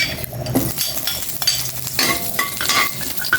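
Garlic sizzles in a pan while a utensil stirs and scrapes, with steady frying hiss and occasional metallic clinks of cookware close by.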